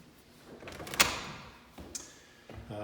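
A rekeyed house front door swings shut and latches itself, giving a sharp click-thud near the middle followed by quieter knocks and rattles of the latch and lock hardware, close by in a quiet room.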